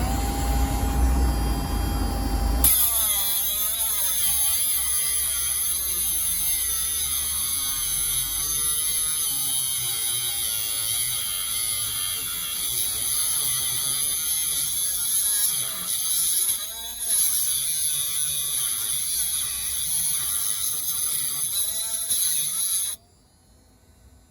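A LYUWO mini angle grinder cutting gives a loud, continuous high-pitched whine with a buzzy, hissing edge. It holds nearly steady for about twenty seconds with slight dips, then stops abruptly.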